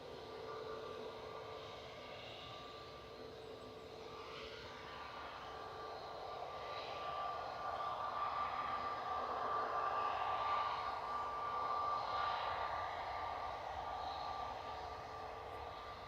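A British Airways jet rolls for takeoff at Manchester bound for Heathrow, its engine whine and rumble distant and fairly faint, building gradually in the middle and easing off, with no talk.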